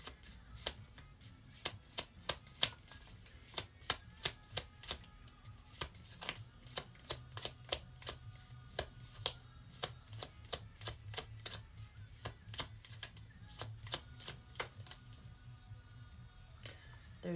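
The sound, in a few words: shuffling a deck of cards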